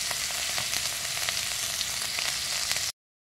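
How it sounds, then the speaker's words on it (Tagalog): Garlic and onion sautéing in a hot pan for a home-cooked chicken hamonado, a steady close sizzle and crackle with occasional stirring scrapes, cut off abruptly at the end. "gisa-gisa muna natin guys ang bawang natin at saka sibuyas para lalong masarap ang ating niluluto"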